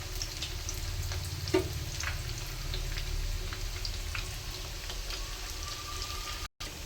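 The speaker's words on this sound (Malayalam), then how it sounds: "എണ്ണ ചൂടായി വരുന്നുണ്ട്. നമുക്കിതിന് ഇതിലിട്ട് കൊടുക്കാം." Chicken pieces for a Kerala-style fried chicken sizzle steadily in hot oil, a dense, close crackle that holds throughout, with one brief louder clink early on.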